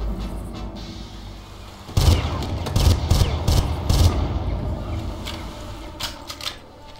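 Short, sharp bursts of automatic gunfire in Far Cry sound as several loud, clustered volleys over a few seconds, separated by brief gaps, then trail off into a couple of fainter shots against low game ambience.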